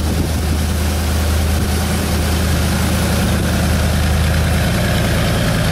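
Close, steady idle of a 1969 Chevrolet Corvette with no knocks or ticks, a deep even rumble that holds constant throughout without any talking.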